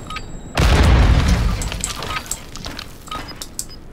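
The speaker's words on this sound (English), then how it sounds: "Throwing Semtex!" A Semtex grenade detonates in Call of Duty DMZ with a sudden loud boom after a short quiet moment, followed by a rumbling, crackling tail of debris and distant gunfire-like pops that slowly fade.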